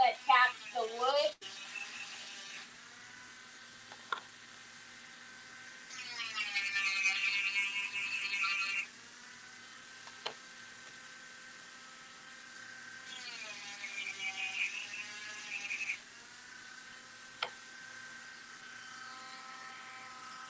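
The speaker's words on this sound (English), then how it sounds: "you can always tell when Nick has used the Dremel because the Dremel's on like high power, as high up as it can go" A Dremel rotary tool runs at full power during a Christmas sign craft project. Its high, thin whine comes in two sustained bursts, with quieter clicks and speech in between.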